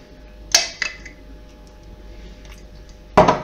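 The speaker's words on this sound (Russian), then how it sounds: "Все тщательно перемешиваем" Mayonnaise-dressed Chinese cabbage salad with crab sticks and corn being stirred in a bowl, giving a few sharp utensil clinks against the bowl spaced apart with quiet scraping between.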